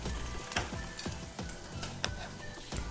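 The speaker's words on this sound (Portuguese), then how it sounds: "Aqui eu estou usando queijo coalho, mas você pode usar o queijo manteiga e deixar dourar um pouco." A slice of coalho cheese browns in a frying pan, a soft continuous sizzle broken by repeated scraping or tapping strokes of a utensil against the pan; no talking.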